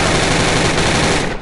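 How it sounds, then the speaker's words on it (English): A continuous, dense burst of rapid automatic gunfire rattles loud and close from a weapon in the VR shooting game Gun Club VR, ending abruptly. "Go there every time just to fire a gun"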